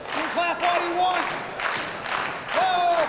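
Wrestling crowd at an NWA Central States triple-threat match clapping and cheering in bursts, loud and close, with whoops and shouting voices mixed in.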